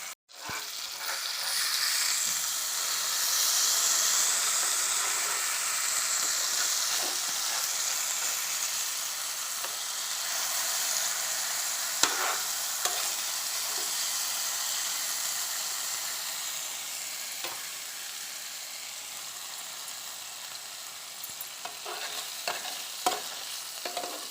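Mackerel (bangude) fish frying in a pan with red masala, a loud, steady hissing sizzle throughout, punctuated by occasional sharp pops and utensil clicks.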